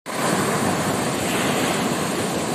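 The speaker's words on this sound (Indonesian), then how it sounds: "Kita sekarang berada di pantai" Ocean surf rolls steadily onto Rowo Gebang beach, a forest-hidden shore, as a dense, continuous wash of breaking waves with some wind rush, loud and close throughout with no voices.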